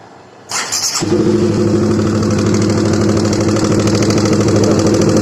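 A Honda CBR150 motorcycle engine cranks and catches after a brief starter whir, then settles into a loud, rough, uneven idle close by.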